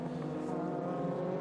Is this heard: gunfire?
no